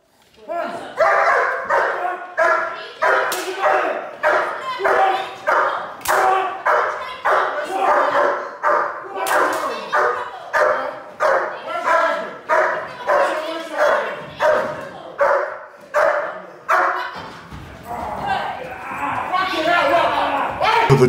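A young dog in handler-defence bite training barks rapidly and relentlessly in a steady, driving rhythm of loud, close barks that continue for twenty seconds with barely a pause.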